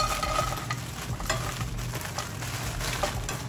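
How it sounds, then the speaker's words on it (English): Peppers sautéing in an oiled pan in a small RV kitchen, a steady crackling sizzle with a utensil stirring and scraping now and then, close and even throughout, no voices. "do a little saute peppers"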